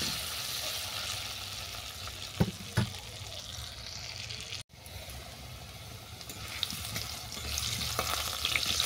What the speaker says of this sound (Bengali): আলুটাও ভাজা হয়ে যাবে এর মধ্যেই।